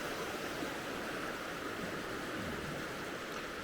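River water runs steadily down toward a concrete fish pass, a constant faint broadband rush of flowing water with no pauses or voices.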